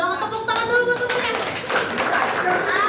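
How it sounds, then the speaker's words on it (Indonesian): Students in a classroom give a short burst of clapping for a classmate who answered a question. It sounds brief and close, mixed with lively children's voices talking over it. "Tepuk tangan dulu buat temennya."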